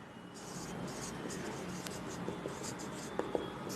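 A pen scratches out a maths solution for a quadrilateral angle problem, a soft continuous writing rasp with a couple of small taps near the end, faint and close.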